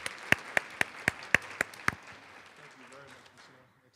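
A handful of sharp, separate claps ring out at a university staff presentation on organizational excellence, then fade into a quiet room murmur after about two seconds.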